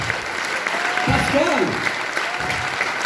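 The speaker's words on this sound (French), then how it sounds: "je vous demande de les applaudir très fort" Concert audience in a hall applauds the musicians with continuous clapping from many people, while a voice speaks a name over the applause and a faint whistle rises briefly.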